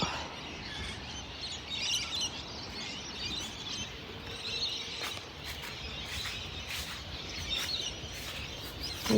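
Bird chirps and calls scattered over a steady outdoor hiss, with brief high twitters recurring at moderate distance; no talking.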